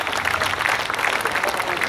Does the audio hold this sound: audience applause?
yes